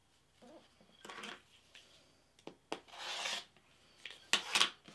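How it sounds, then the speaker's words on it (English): Rotary cutter slicing quilting fabric along a ruler from point to point to make half square triangles, faint short scraping strokes spaced irregularly, with one longer swipe in the middle and a couple of close final cuts. "I'm just going to take my ruler, any of my rulers, and I'm going to line them up from the point to the point. And I'm just going to cut."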